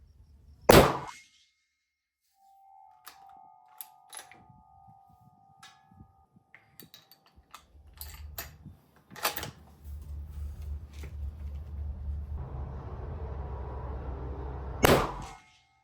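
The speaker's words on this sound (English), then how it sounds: "There's our first 2 shots, top left target." A Franchi Momentum rifle in 6.5 Creedmoor fires 140 grain Speer Gold Dot loads in Federal brass with small rifle primers at a shooting range. Sharp, loud reports are spaced seconds apart, with quiet clicks and handling noises between them.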